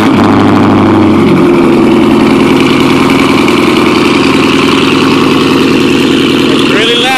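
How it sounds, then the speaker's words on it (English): A car cold-starting and idling with a Roush full catback exhaust, catalytic converters removed and mufflers deleted, producing a loud, deep, steady rumble with a brief rev near the start and rising tones at the end. "do a cold start on the Roush full exhaust I had"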